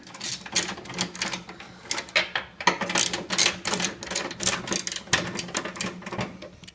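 Bolts being taken out of a Craftsman snowblower's auger housing, heard as rapid bursts of clattering mechanical ratcheting in quick repeated runs, close and loud, with no voices.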